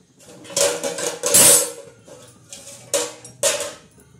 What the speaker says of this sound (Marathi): आता याच्यावर आपण परत झाकण ठेवणार आहोत.